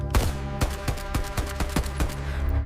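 Gunfire in a Bengali audio drama night shootout set in Dhaka's Uttara: about eight sharp, loud shots crack in quick, uneven succession over a steady low rumble, with no voices.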